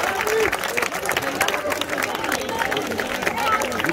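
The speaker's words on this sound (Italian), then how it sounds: "a loro va un grosso applauso" A crowd at a children's award ceremony at a village palio applauds with dense, continuous clapping, mixed with chatter and voices from the audience.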